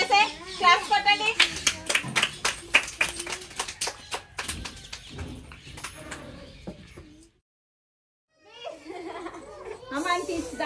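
Young children at an Anganwadi preschool's ECCE Day event clap their hands in quick, uneven bursts, then the clapping fades as kids chatter and an adult talks, with a brief silence before voices return.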